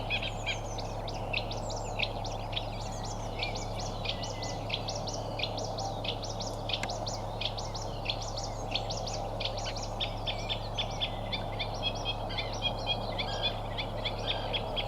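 A reed warbler calling from a reedbed, its rapid, chattering song repeating steadily and fairly faint over a constant low hum, with no voices.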